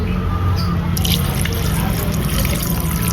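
Fermented kamias broth pours steadily over milkfish in a pot for Filipino paksiw na bangus, a continuous close liquid splashing and trickling with no talk.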